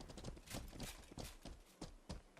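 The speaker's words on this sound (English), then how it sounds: "My horse is going crazy." Rapid, irregular hoofbeats of a horse in the video game Mortal Online 2 clatter continuously, galloping with a busy, slightly muffled thump.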